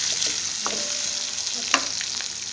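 Stuffed bitter gourd (karela) fries in a pan with a steady close sizzle of hot oil, broken by a couple of brief utensil clinks and stirring sounds, with no talking.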